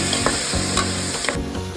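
Coriander and mint leaves fry and get stirred in a hot pan for homemade village-style chicken biryani, giving a steady close sizzle with scraping stir strokes, no talk.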